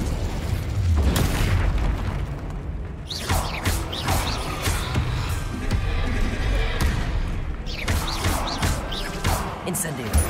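Incendio fire spell cast in the video game Hogwarts Legacy, heard as repeated booming bursts and whooshes amid a loud, continuous battle din, with several sharp impacts spread across the clip and talk over it.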